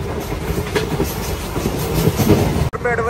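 The Andaman Express, train no. 16031 from Chennai Central to Katra, rolls along the rails near Sullurupeta in Andhra Pradesh. A loud, steady rumble with rhythmic clickety-clack carries on until a brief dropout near the end.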